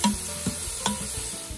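Two pounds of ground beef browning on the sear/roast setting of a pressure cooker pot, with soft steady sizzling and a few light stirring scrapes, close and moderate, no talking.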